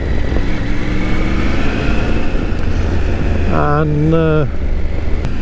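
A motorcycle being ridden along the CV-715 toward Benidorm gives a loud, steady engine drone with wind rush, the pitch briefly shifting as it changes speed, while someone speaks over it.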